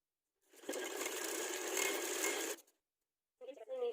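Sewing machine running steadily for about two seconds while stitching the folded half-inch side seams of a loose palazzo, close and loud, followed by a brief pause and a short burst of talking.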